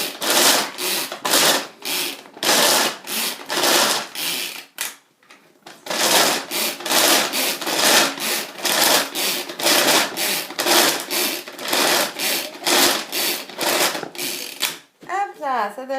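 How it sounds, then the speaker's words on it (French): Rapid rhythmic grinding and clattering as a hand-pulled manual chopper chops chocolate chips, whirring in repeated bursts, loud and close, with a short pause midway. "dans notre petit hachoir, on va mettre des pépites de chocolat"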